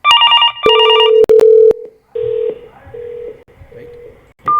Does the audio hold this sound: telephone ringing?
yes